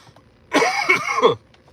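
A single harsh cough inside a car breaks into two or three rough bursts, close and loud, against near silence.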